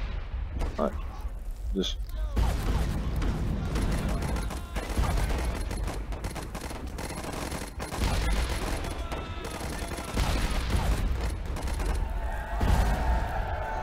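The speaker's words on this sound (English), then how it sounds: "Oh shit, they have a machine gun." Machine gun fire in the Warfare 1917 flash video game, a dense ongoing rattle of gunfire across the battlefield mixed with game noise, with someone speaking briefly over it.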